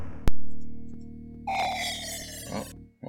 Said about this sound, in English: That noise was actually an enemy firing on us.